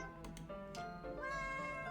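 A cat meows close by, several short mews over a steady musical background with no talking.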